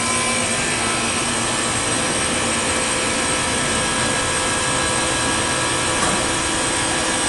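Fujitec hydraulic elevator at a resort building running, a loud, steady broadband hum and rushing drone that holds evenly throughout with no talking.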